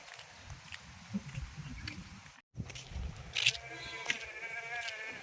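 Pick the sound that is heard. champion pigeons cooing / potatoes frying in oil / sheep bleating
sheep bleating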